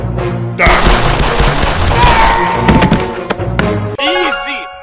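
Gunfire in the Roblox game Brookhaven, a burst of sharp, loud shots and thuds with game sounds and music, ending in a tonal chime.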